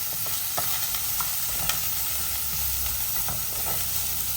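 Spices tempering in a small splash of oil for homemade chicken curry, a steady close sizzle with occasional light pops and faint stirring scrapes.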